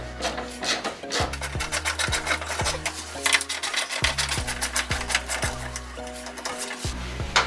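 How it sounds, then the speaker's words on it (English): Two 10mm bolts are worked out of a Toyota MR2 Spyder with a ratchet, which gives rapid, close, rasping clicks in repeated strokes, broken by short pauses and heavy knocks. "I'll pull these two 10mm bolts out real quick."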